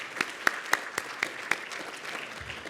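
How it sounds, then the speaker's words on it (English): At an alumni awards luncheon, a few people clap in a sparse, uneven pattern: about six distinct sharp claps spaced roughly a quarter second apart, close and moderately loud, fading out into quiet room noise. "So if you just give a round of applause,"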